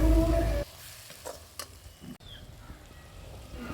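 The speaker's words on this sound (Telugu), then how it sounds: "సో ఇదంతా కూడా బాగా మిక్స్ చేసుకొని ఇలా ఫ్రై చేసుకోవాలన్నమాట" Fish masala being mixed and fried in a pan, a brief loud sizzle at the start giving way to soft stirring scrapes and light crackling close by, with no talk.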